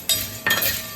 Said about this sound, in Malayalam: പിന്നെ നമുക്ക് ചവ്വരി ഒന്ന് വറുത്തെടുക്കാം കേട്ടോ